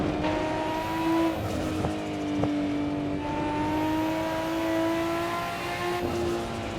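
A Nissan Skyline GTR R34 in the Assetto Corsa racing game laps the Nurburgring, its engine droning loud and steady through long rising pulls, with brief gear-change dips and faint tire squeal, no voices.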